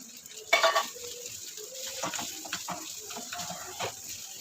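Rice, margarine and chopped kangkong stirred in a pan, a soft sizzle under scattered scraping and clinking from the spatula, with one louder knock near the start, quiet and close.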